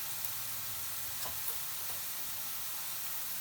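Onion softening in oil in a pan for cabbage kofta, a steady, even sizzle with faint crackles, moderately loud and close, with no talking.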